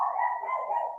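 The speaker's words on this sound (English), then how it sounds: "That's my dog" A pet dog barks or yips in one sustained, continuous vocal burst lasting about a second, close and fairly loud, with no talk over it.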